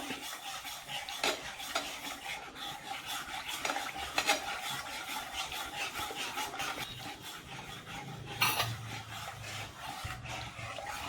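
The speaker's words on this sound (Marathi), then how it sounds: "आता थोडं थोडं करून आपल्याला हे मिल्क पावडर आहे ना त्यामध्ये टाकायची, गुठळ्या नाही होऊन द्यायच्या, असं हलवत राहायचं" Milk powder being stirred little by little into dissolved sugar syrup in a pan over low heat, a steady scraping, rubbing swirl with occasional utensil clinks against the metal, continuous and close throughout.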